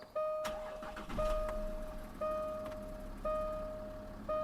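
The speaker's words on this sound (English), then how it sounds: "I've got to start the car up" Jaguar XF S car engine starting, accompanied by a repeating chime of evenly spaced tones, probably a door or warning chime, which rings about four times across the clip, with a low engine rumble beneath.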